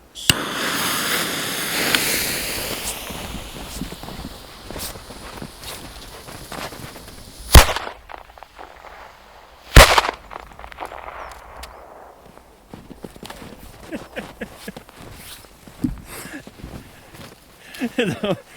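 Two sharp, loud bangs from Funke China Böller firecrackers, about two seconds apart amid outdoor background noise and scattered clicks, going off nearby.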